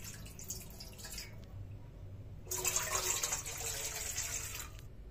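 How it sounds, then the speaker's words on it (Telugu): Water is poured into a vessel while making junnu, a quiet splash that starts and then swells into a louder, steady close gush of running water partway through. "ఒక గిన్నె తీసుకొని 2 గ్లాసుల నీళ్లు పోసుకోవాలి"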